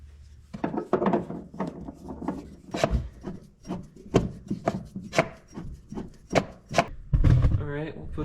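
Tie rod removal tool works against an inner tie rod on an early 2000s Audi A4 Quattro. It sounds as a series of close metallic clicks and scraping ratchet-like turns, roughly a dozen sharp taps at irregular intervals, ending in a brief grinding rub.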